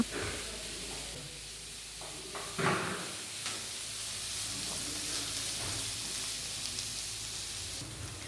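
Garlic fries in a pan for a fish garlic fry, a soft continuous sizzle and hiss with a few clattering utensil knocks, close by.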